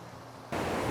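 Rushing water at the Three Shires Head waterfall bursts in as a loud, steady broadband roar after a quieter half-second start, with no voices.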